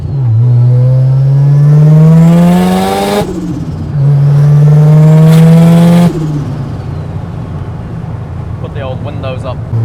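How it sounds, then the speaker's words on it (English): Mazda RX-7 with a turbocharged rotary engine revving hard, two loud, rising pulls each cut off sharply, then settling back to a rough idle with a faint whistle near the end. "the turbo on this thing sounds so loud"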